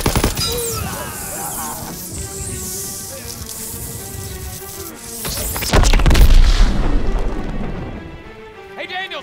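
A grenade explodes with a heavy, booming burst midway through a World War II battle scene in Call of Duty WW2, set against a rumbling, noisy combat background with voices.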